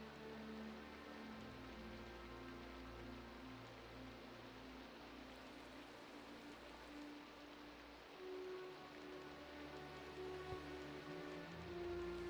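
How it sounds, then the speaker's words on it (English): Steady, soft rain patters outside in Minecraft, a constant faint wash of falling drops layered under tonal ambient background music. "Sounds like it's raining outside."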